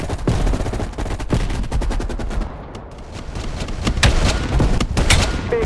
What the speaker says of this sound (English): You readied your sniper rifle to assist.